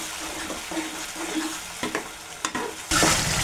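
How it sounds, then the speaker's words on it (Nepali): Tomatoes fry in a pan for a Nepali-style paneer curry, a close sizzle broken by scraping spoon strokes and a few sharp clacks, then a louder hiss of steam near the end. "यो टमाटर पनि नपाक्दासम्म हामीले राम्रोसँग फ्राई गर्ने।"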